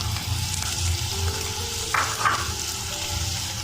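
Capsicum hitting a hot pan with chicken gives a steady, close frying sizzle throughout, with brief brighter crackles near the middle as the pieces land.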